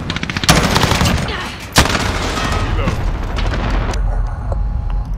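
Gunfire in Call of Duty Modern Warfare Team Deathmatch: sharp bursts of rapid shots and heavy booming blasts, loud and close, with a big explosion early and rumbling battle noise throughout.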